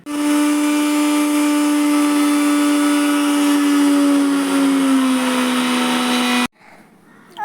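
A mixer grinder whirring loud and steady as it grinds garlic, shallots and ginger into a paste, one continuous motor whine that dips slightly in pitch before cutting off abruptly near the end.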